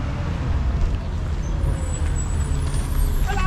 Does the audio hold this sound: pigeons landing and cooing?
no